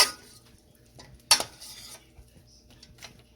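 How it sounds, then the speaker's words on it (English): Vegetables and sausage tossed with pasta in a cashew cheese sauce, a utensil scraping and clinking against a pot or pan in a few sharp knocks and softer stirring sounds, close by with no talking. "all my vegetables and my sausage is being tossed in with the pasta and the cashew cheese sauce"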